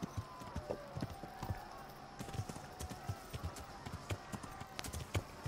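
A horse gallops in the medieval video game Kingdom Come: Deliverance, its hooves beating in a quick steady clip-clop, fairly quiet, with someone talking over it.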